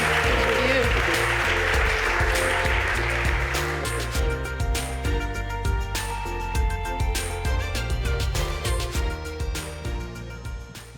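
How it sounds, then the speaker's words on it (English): A conference audience at NEARCON 2023 applauds after a panel on the Layer 2 stage, a dense wash of clapping for the first few seconds before it thins and music with steady tones takes over. "Give a round of applause."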